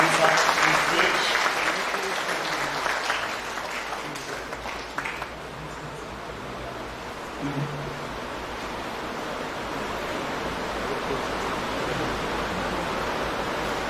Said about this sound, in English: Kindly please everyone give a round of applause to this gentleman as he comes up on stage